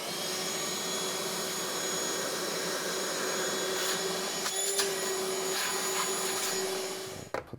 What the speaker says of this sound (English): thing to do in here really is to vacuum the vacuum